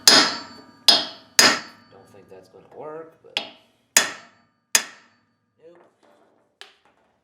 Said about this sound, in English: I'm just actually going to rest a hammer on it and hit that hammer with a hammer.